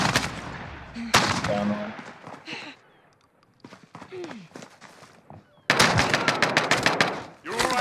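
Bursts of automatic gunfire in a Call of Duty Warzone match, a sharp volley early on, a quieter gap, then a loud sustained rattle of rapid shots near the end, with players talking in between.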